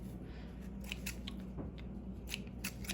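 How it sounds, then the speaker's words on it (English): Scissors trim overlong strips of lace for a lace collage tree, giving soft, quick repeated snips close by over a steady low background hum, with no talking. "I'm gonna trim actually a few of them just because some of them are really long"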